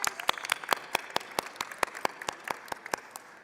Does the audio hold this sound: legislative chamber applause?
yes